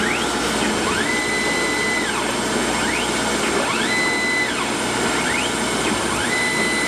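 Surface grinder making a single pass across a steel gage block, a steady loud mechanical whir with a rhythmic rising and falling whine as the table travels back and forth, with no talking.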